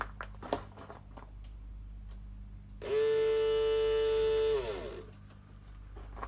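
Replacement fuel pump in a 1998 Holden Commodore Berlina VT whirs steadily for about two seconds after the ignition is switched on, a clear, even electric whine that starts abruptly and winds down at the end, with no talking.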